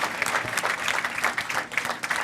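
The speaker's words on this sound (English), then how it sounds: "please give a round of applause for our panel" Dense, steady applause from a crowd for a panel at a cloud security event aboard a cruise, a continuous wash of many hands clapping at moderate volume.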